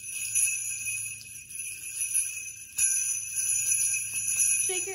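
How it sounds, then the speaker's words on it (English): Small hand bells and an egg shaker being shaken in a music-and-movement lesson for young children, a steady bright jingling ring that continues without pause. "We're gonna play our bells or your egg shaker that you have in different ways."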